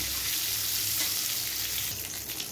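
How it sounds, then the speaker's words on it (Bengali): Continuous bright sizzling of pointed gourd frying in hot oil, steady and close, with no talking. "আমার পটলগুলো ভাজা হয়ে গেছে।"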